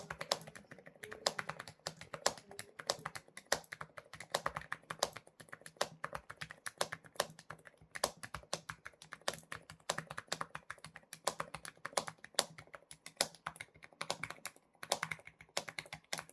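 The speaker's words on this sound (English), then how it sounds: "this is my daughter typing here with this keyboard" Rapid, steady typing on a NuPhy Air100 V3 wireless low-profile keyboard, a dense run of crisp key clicks and clacks, close up, continuing with no talking.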